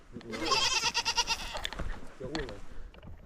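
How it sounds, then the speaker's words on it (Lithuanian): A goat bleats outdoors during a mountain trip, a loud wavering call followed by a shorter second bleat, with wind and background noise around it. "Bet kažką ir girdėjau, kad mekena"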